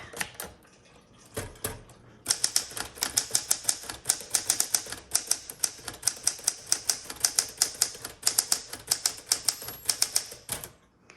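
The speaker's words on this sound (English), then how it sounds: "this is a good book writing typewriter" Keys of a 1960 Sterling manual typewriter clack in a quick, steady rhythm, loud and close, after a brief pause near the start, with no talking.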